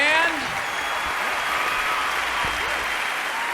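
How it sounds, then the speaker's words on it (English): An audience at a concert applauds the band, a dense, loud wash of clapping that continues steadily, with faint voices and a brief instrumental tone at the start. "Applause for the band."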